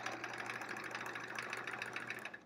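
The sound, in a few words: sewing machine stitching in the ditch while quilting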